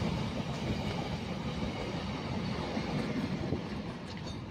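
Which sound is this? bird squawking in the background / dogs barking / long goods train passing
long goods train passing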